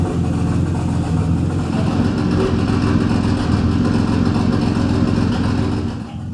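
A rare JDM car engine, kept in a residential garage in Japan, runs loud and close, a steady mid-pitched rumble with slight swells in revving and no voices.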